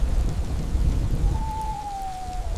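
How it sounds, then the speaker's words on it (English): A wild storm with heavy rain hisses steadily and thunder rumbles low and loud, while a faint tone briefly slides through partway. "He remembered how the storm outside was wild."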